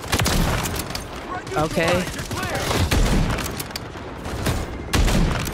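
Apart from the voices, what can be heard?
rifle gunfire in a video game, XRK Ballista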